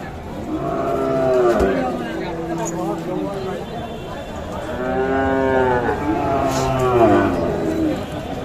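Cattle moo repeatedly at a busy cattle market, with long low calls rising and falling in two drawn-out bouts, fairly close, while people talk over the crowd noise.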